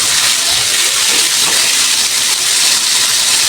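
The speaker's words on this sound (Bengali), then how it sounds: "মাছটা এক পিস ভাজা হয়ে গেছে, আর এক পিস উল্টে দিব" Pieces of rohu fish fry in hot oil, a loud, continuous sizzling hiss with faint crackles and a brief stir around the flip.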